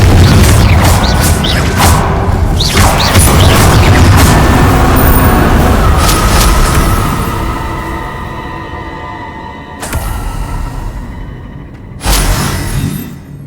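In the Hogwarts Legacy video game, Confringo blasting spells detonate in a string of loud, booming explosions with crackling debris. The blasts fade into a quieter rumble, followed by two more sharp bursts near the end.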